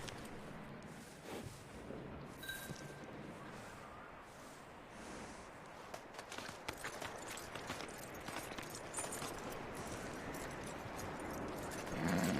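Horse hooves clip-clop steadily in Red Dead Redemption 2, a close, rhythmic trotting that runs the whole way over a soft outdoor ambience, with a few sharper hoof strikes toward the end.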